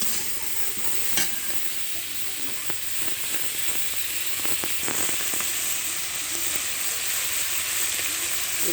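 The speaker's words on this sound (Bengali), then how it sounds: "কাঁকড়া আর কচু ভাজি করছি" Sundarbans dasi crab and maan kochu taro frying in a pan, with a steady close sizzle broken by scraping stirs and light clinks of the spatula throughout.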